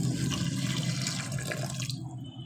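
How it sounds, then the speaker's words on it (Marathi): Hot water pours steadily into a pot of khichdi rice, a close, continuous splashing gush that cuts off just before the end. "याच्यामध्ये घालून घेऊ तरी गरम पाणी"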